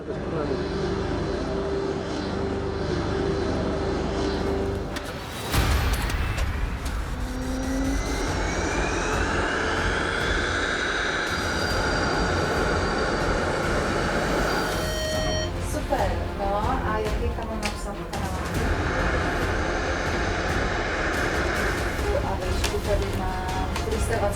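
A fighter jet engine roars loudly and steadily during maintenance before takeoff, its whine rising and shifting in pitch, with voices talking intermittently over it.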